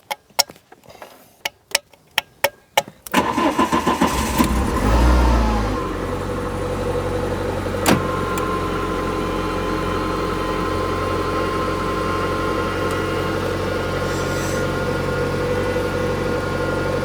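A Renault Clio 2 RS engine being restored cranks and fires after a few sharp clicks, then settles into a loud, steady idle with no air filter fitted, the drone continuing close and unbroken.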